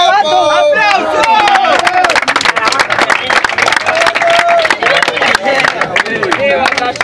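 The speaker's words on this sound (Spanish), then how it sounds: "¡Aplausos!" Audience applause and cheering at a freestyle rap battle, a dense crowd clapping and hollering continuously at close range, with lively voices mixed into the roar throughout.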